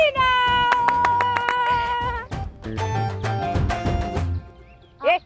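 Hands clapping in a quick, rhythmic run of sharp claps, mixed with sung or spoken voices, followed by more scattered claps.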